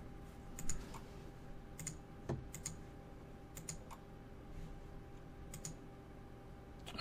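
Clicks from a computer mouse come in quick, sparse taps, some single and some in pairs, faint and close against a low steady room hum.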